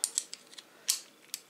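Broken scissors are handled and snipped in a few sharp, close metallic clicks, irregularly spaced and alone, with no talking.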